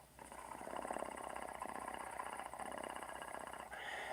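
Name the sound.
voice imitating a purr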